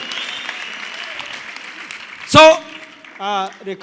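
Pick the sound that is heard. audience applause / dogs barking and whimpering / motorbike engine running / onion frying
audience applause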